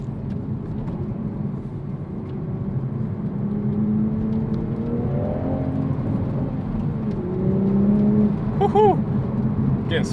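The engine of a 2023 Toyota Supra with a manual gearbox, in sport mode, hums steadily while driving, then blips up in short rev-matching surges, with a quick burst of revs near the end.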